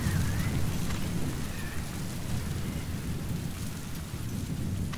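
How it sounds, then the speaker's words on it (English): Steady heavy rain with low rumbling thunder in a storm in the video game Metal Gear Solid V: The Phantom Pain, a continuous full wash of sound throughout with no talking. "Come on, Storm, clear up."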